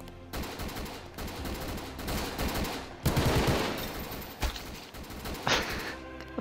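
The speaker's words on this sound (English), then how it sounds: "Never stop firing, Jones." Rapid automatic gunfire in the video game Garry's Mod, dense and loud, with sustained bursts and overlapping shots that barely pause over several seconds.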